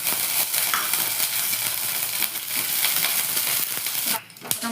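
Peanuts frying in oil in a pan make a steady, close crackling sizzle with some stirring scrapes, easing off briefly near the end.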